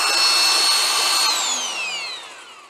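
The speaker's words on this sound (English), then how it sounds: "It's sounding like an old electric drill from like the 1980s." A 3/4-inch cordless impact wrench runs at a steady high-pitched whine, then winds down as the pitch slides lower; it is close and loud with no talking.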